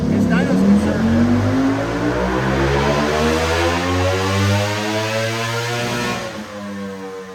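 Ducati V4 SP motorcycle fitted with an Arrow exhaust running hard on a dyno, a loud sustained engine roar with a rising, steady tone and slight wavering from wheel spin, filling the whole clip.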